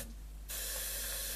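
Aerosol spray hissing into a Siemens RG13 VHF pushbutton radio, a brief quiet start then a loud, steady, broadband hiss held for about a second, close by.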